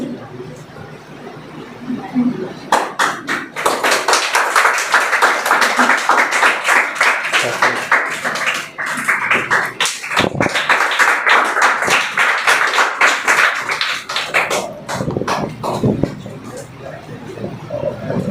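An audience claps for a prize winner at a Teachers' Day program at a school, a dense crackle of hands starting after a brief lull and running steadily with voices mixed in.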